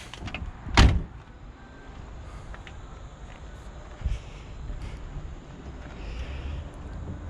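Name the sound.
car door shutting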